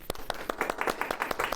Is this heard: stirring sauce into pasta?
no